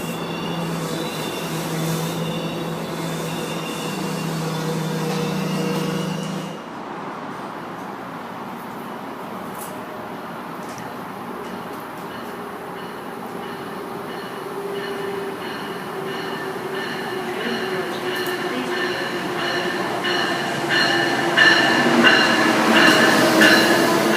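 A train pulls into Westwood station with a steady rumble and rolling wheel noise, brakes and wheels squealing faintly as it nears, growing louder toward the close.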